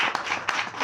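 A church congregation applauding loudly with dense, continuous clapping through the whole short burst.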